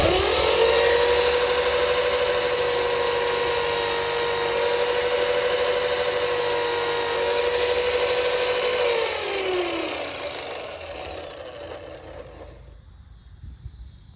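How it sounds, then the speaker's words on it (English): Buffing wheel spinning steadily for power stropping carving tools, a loud sustained motor whine with a tonal hum that drops in pitch as it spins down near the end, then cuts out. "So we got the buffing wheel in. We're going to check that rotation again."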